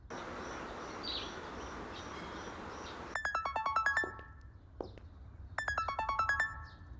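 A mobile phone rings for an incoming call in a drama scene, with two bursts of a bright, rapid melodic ringtone over a steady hissing room noise, fairly loud and with no talk.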